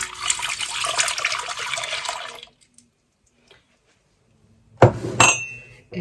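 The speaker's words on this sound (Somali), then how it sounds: "waxaan ku shubi doonaa caanaha" Milk is poured into a bowl of flour and butter for a sweet egg crepe batter. A steady splashing stream runs for about two seconds, then falls silent before a short clink and a second splash.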